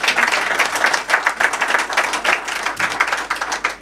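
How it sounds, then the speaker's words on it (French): Brisk applause from a modest group, individual claps audible in a quick uneven patter, fairly close and loud. "cher Tidiane Von, applaudissez-le."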